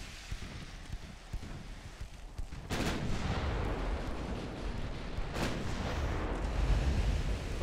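Heavy 14-inch battleship guns fire in the naval game Ultimate Admiral Dreadnoughts, two big booming blasts standing out over a constant rumbling roar of battle, with no voice over it.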